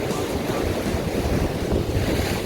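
Strong wind and heavy swell with surf pounding the Jeju Island coast, a dense, roaring wash of waves and buffeting wind noise on the microphone, loud and continuous with no speech.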